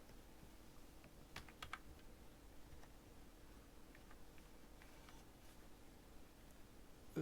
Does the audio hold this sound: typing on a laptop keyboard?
yes